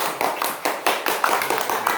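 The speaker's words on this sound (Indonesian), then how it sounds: "tepuk tangan buat kelompokku" A small group claps together in a classroom after an Islamic religious education practice lesson, steady overlapping hand claps close by for about two seconds with no talking.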